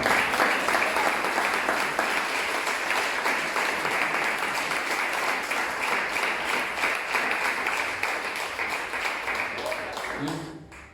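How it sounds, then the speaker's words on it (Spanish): A church congregation applauds during a sermon, a long, dense spell of many hands clapping loudly and evenly before tapering off abruptly at the end. "Y usted le trae un aplauso a Dios por eso"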